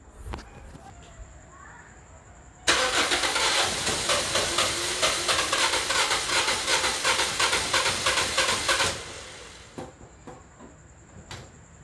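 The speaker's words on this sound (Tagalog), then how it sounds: "so ngayon pwede na nating subukan pa startin kung ano mangyayari so startin natin" A car engine starts after its fuel injectors are cleaned, cutting in abruptly and idling loudly for about six seconds with a rough, pulsing rhythm before shutting off, leaving quiet background sounds.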